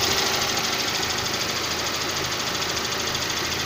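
A 16-valve 126 car engine knocks at a repair shop, a close, steady, loud mechanical clatter that runs without pause over dense running noise.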